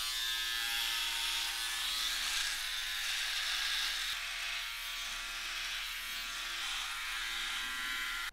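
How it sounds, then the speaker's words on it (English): A Defender Dual-Head razor shaving at close range gives a steady, even buzzing hum with a faint rasp that holds for several seconds without a break. "it just glides over, there's no tugging, you get a clean shave"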